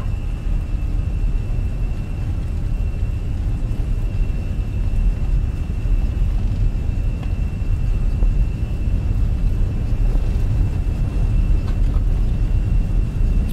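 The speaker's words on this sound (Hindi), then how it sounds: "गाइस रोलिंग टेक ऑफ करना है एंड फ्लेक्स" Jet engines of a Jetstar Airbus A320 rumble steadily during the takeoff roll from Sydney, a continuous low roar with a thin whine above it, heard from inside with no talking.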